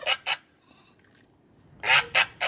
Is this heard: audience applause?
no